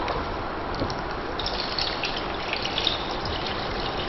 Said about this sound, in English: pour it into a bucket here that we have under the on the bottom trolley